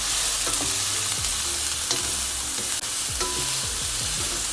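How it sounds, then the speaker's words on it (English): Onion, garlic and pimento pepper sauté in a pan with a steady, close sizzle, broken by several scraping stirs of a utensil; no one speaks over the cooking. "Then we're gonna go in with our aromatics, our onion, our garlic, our pimento pepper. We're gonna saute that"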